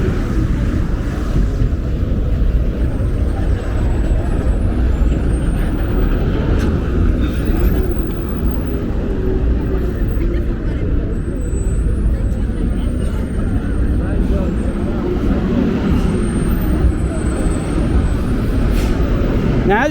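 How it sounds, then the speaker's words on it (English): Heavy truck traffic rumbles steadily along 125th Street in Harlem, New York, a loud, continuous low roar of engines with passing vehicles and street noise throughout. "the big thing about 125th is the noisy truck traffic"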